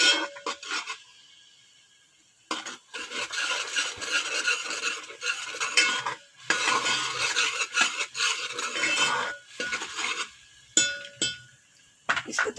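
A spoon scrapes and stirs masala roasting in a pot for beef paya, rough rasping strokes in repeated bursts separated by short silences, close and fairly loud.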